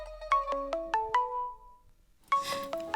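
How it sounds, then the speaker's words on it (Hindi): A mobile phone rings with a bright melodic ringtone in two bursts, a run of stepped tones, a pause, then the tune starting again, loud and close with no talking. "ओह, वो मेरे भाई का कप्पू का फोन है"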